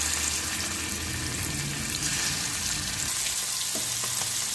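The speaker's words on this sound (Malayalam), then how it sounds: "ഞാനിതാ ഒരു ചീനച്ചട്ടി വെച്ച് അതിലേക്ക് വെളിച്ചെണ്ണ ഒഴിച്ചിട്ടുണ്ട് നന്നായിട്ട് ചൂടായിട്ടുണ്ട് അതിലേക്ക് ഈ മീനിനെ എല്ലാം ഒന്ന് ഫ്രൈ ചെയ്തിട്ട് എടുക്കും" Kilimeen fish fries in hot coconut oil in a cheenachatti, giving a loud, steady, close sizzle that runs unbroken throughout with no talking.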